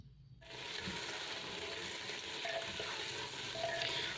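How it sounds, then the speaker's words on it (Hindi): Beef frying with onions in a pot for biryani, a steady loud sizzle that starts abruptly and runs unbroken, with faint scraping of stirring underneath. "बीफ भी मैं इसके साथ भून लूँगी बहुत ही अच्छे तरीके से"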